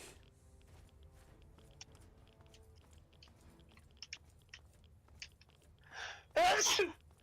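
A single loud sneeze bursts out near the end over a quiet video game soundscape of soft clicks and faint background noise from Fallout 3.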